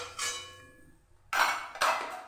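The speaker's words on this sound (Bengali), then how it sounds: "এবার একটা প্লেটে উঠিয়ে নিচ্ছি।" Fried egg-and-potato chops set down onto a plate, two sharp close clinks of food and utensil against the dish following a quieter scrape, with no talking.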